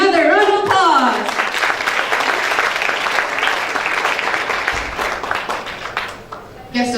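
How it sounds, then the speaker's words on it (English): Applause from an audience at a formal ceremony, a dense sustained clapping that follows a brief announcer's voice at the start and fades out toward the end. "Let's give him another round of applause."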